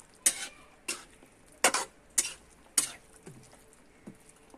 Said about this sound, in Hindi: ये सब डालने के बाद अच्छे से चलाएंगे